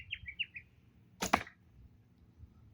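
Arrow shot from a traditional bow in the Howard Hill style strikes the target with a single sharp, close thwack, preceded by faint bird chirps in an otherwise quiet outdoor setting.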